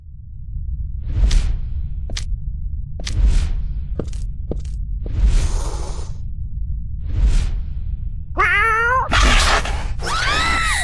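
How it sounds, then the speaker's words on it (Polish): Scattered whooshes and thuds give way to a cat's loud, wavering yowls near the end, over a low rumbling background, in the video game Postal 3. "słuchajcie, kot atakuje ludzi"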